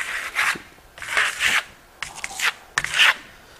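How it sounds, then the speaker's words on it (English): A trowel skims dark gold Venetian plaster across a hard primer on a wall near the ceiling line, giving four rough rasping scrapes in a steady back-and-forth rhythm, close and fairly loud, with no talking. "Now the scratching sound you hear, that's from that plaster, the primer,"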